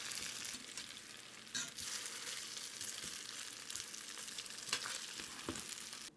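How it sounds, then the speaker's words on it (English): Gnocchi frying in a pan, a steady, faint crackling sizzle with occasional sharper pops and a brief scrape of a fish slice spatula near the start. "the first round of gnocchi is pretty much fried up nicely"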